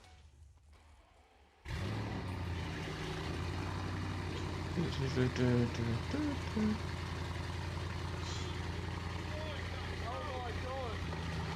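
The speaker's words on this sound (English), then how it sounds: "I'm not sure how different the sound's going to be with this Scorpion exhaust" A car engine cold-starting with a Scorpion exhaust and downpipes bursts into a loud, steady rumbling idle after a short quiet lead-in, with excited voices talking over it.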